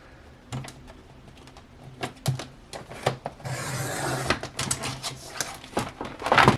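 A Cricut machine cuts vinyl scraps, giving close, faint, uneven scraping and clicking with a short run of steady rasping partway through and no voices.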